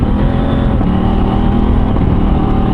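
A car accelerating hard on a rural dirt road, engine droning loud and steady close by as it pulls through second and third gear.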